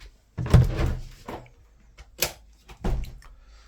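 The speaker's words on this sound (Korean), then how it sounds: "현관문을 열고 들어오시면" The front door of a small six-pyeong farm hut swings open with a cluster of close wooden knocks and clatters, followed by a few lighter bumps and rattles, with no voices.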